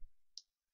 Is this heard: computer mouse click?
yes